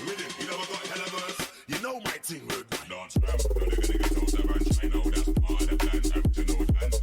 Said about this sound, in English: Then that general whoop sound.